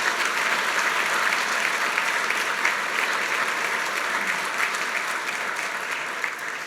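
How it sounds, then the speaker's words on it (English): Ceremony audience at the North Carolina Governor's Awards for Excellence applauding honorees, a broad, even sustained applause from a large crowd that holds steady and begins to taper near the end. "One more round of applause for our honorees."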